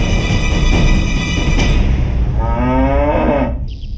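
A buffalo moos in a long, low, drawn-out call over steady background noise, close and fairly loud, fading out near the end.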